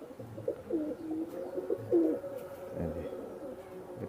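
Madrasi and tippler pigeons in an Indian loft give soft, low, throaty coos over a few seconds. The cooing is steady and moderately close, with a faint background murmur.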